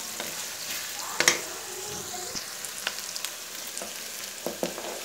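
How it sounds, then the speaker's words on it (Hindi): Two small chopped onions browning in a pan for a kachnar meat dish, giving a soft, steady frying hiss with a few scattered stirring clinks and scrapes, quiet and close with no talking. "इसे अच्छे से अब हम प्याज को ब्राउन कर लेंगे"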